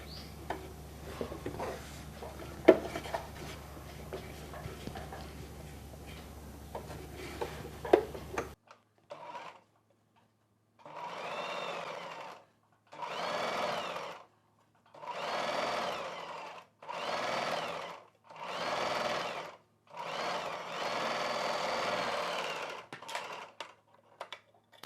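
A sewing machine stitches piping onto a sleeve in repeated short bursts of whirring, separated by brief pauses, after a quieter stretch of handling noise.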